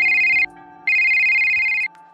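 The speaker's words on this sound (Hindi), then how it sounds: "तभी उसका फोन बजता है" A telephone ringtone sounds in two long electronic bursts separated by a short pause, loud and close with nothing else over it.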